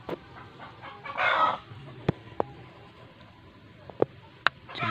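Free-range village hens cluck in short bursts with a few sharp calls, close by, over a quiet outdoor background.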